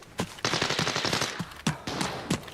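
Automatic rifle fire in the shooter game Arena Breakout: Infinite, an SG550, in several loud close bursts of rapid shots with short pauses between them, no talk.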